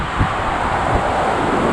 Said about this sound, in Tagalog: Kita nyo po yung lakas ng hangin.